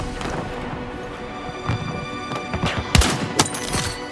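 Rapid gunfire from a large-scale video game battle on the Golmud Railway map, with sharp bursts and shots clustered near the end over a steady busy din of combat.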